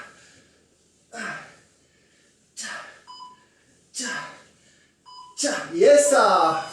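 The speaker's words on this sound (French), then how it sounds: "Dès que tu as le bip, c'est fini" A workout interval timer gives short, faint electronic beeps, heard twice a couple of seconds apart, amid loud heavy breathing and panting from someone exercising during a HIIT session.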